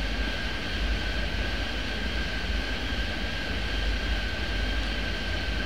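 Airplanes taxiing around an airport in the game Airport Madness 3D, a steady loud jet-engine drone with a constant whining tone, unbroken and even throughout.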